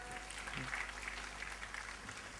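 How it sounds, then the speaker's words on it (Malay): Steady applause from an audience at an evening Malay ceremony, a continuous dense patter of clapping that holds evenly throughout. "Tepuk tangan sekali lagi tuan-tuan."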